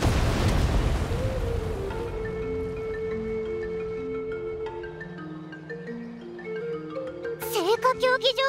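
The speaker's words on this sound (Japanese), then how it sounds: "競技場がすごいことになってるぞ。 爆発でも起きたのか？" A deep boom erupts at an arena in the video game Genshin Impact, followed by a long rumbling decay, then sustained musical tones rise and a sharp high effect bursts near the end.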